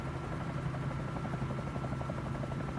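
A Bell 47J Ranger helicopter in Microsoft Flight Simulator drones with a steady rotor thrum and engine hum, loud and continuous without talk.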